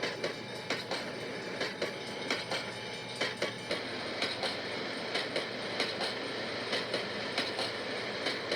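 A train hauled by two CF7 diesel locomotives rolls past, its wheels clicking over rail joints in a steady rhythmic beat over a constant rumbling roar at moderate distance.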